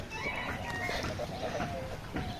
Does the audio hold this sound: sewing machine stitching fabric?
no